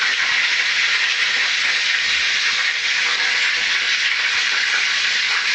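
Food frying in a pan gives a steady, loud, bright hiss of sizzling fat that runs unbroken throughout, with no talking over it.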